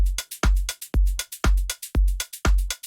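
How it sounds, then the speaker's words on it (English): A looping organic house drum groove with punchy deep kicks and crisp bright percussion hits in a steady, bouncy rhythm, played alone. "So our drums in total sound like this."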